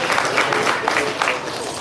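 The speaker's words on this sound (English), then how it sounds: "Clap your hands if you happy that God woke you up this morning" An open mic audience claps their hands, a dense burst of crowd applause that holds steadily at close range for under two seconds.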